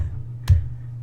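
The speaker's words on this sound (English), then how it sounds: "That is the sound of me face palming." A single face-palm slap lands as one short, sharp smack of hand on face, standing alone above a low steady hum.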